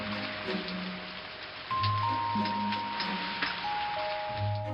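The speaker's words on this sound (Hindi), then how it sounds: "इतने में बाहर बारिश शुरू हुई।" Steady rain falling and pattering on a surface, a constant wash of noise with faint tonal hums in the background.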